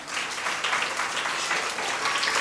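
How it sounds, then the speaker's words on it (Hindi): Children and adults at a religious study class clap together, a dense, steady patter of hands that holds at an even level from start to finish. "ऐसे थोड़ी ताली बजा के दिखाओ"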